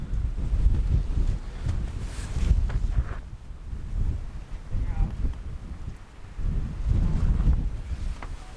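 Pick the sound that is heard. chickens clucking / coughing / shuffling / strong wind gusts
strong wind gusts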